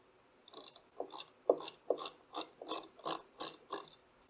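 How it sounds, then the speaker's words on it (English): A ratchet wrench with a 7/16 socket loosens a bolt on a Myteelite II 8070 carpet extractor vacuum, giving about nine evenly spaced, close clicking bursts in steady rhythm, with no talk. "it looks like a 7/16, and that will loosen this bolt right here"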